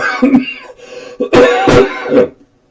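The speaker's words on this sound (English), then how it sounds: "Pardon my cough." A close, loud throat-clearing cough from someone borderline for pneumonia, a couple of rough bursts in quick succession, then silence.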